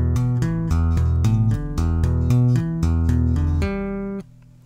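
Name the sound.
bass guitar playing a two-handed lick slowly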